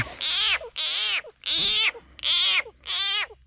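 A frog calls five times in a loud, close, evenly spaced series of rasping, pulsed croaks, heard at a waterside while it is hunted with a fish speargun, with no talk.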